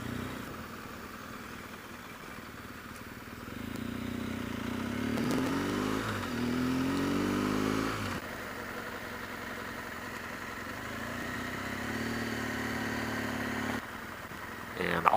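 A BMW R1200GSA motorcycle engine running while riding, a low steady drone that rises and falls in pitch across the stretch, with a louder burst near the end.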